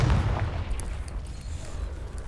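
A Confringo blasting spell explodes in the video game Hogwarts Legacy, a heavy low boom with a rumbling decay that lingers across the short moment.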